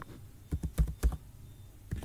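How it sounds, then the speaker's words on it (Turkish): Several quick keystrokes clatter on a computer keyboard in a short, uneven burst, followed after a brief pause by one more key press, close and clear with no talking. "tooltip translatör yazıp enter'a basıyorum"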